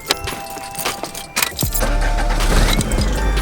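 A car engine cranks and catches after new wastegate hardware is fitted, then settles into a loud, steady idle as it warms up, with a jingle of keys just before it starts.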